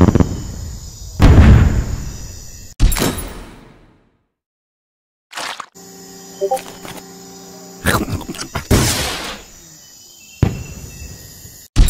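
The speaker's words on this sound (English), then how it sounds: "it kinda looks like the SAM turret's shooting all of its missiles" A SAM turret fires off its missiles in the Henry Stickmin video game, heard as several loud bursts and launches with a silent gap and a whistling tone between blasts.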